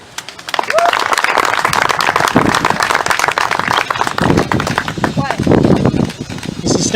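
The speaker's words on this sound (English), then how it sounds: "give him a round of applause as he approaches the stage" An audience applauding as a soldier approaches a stage at a fallen soldiers march event, loud clapping with cheering and voices over it, rising sharply and sustaining for several seconds.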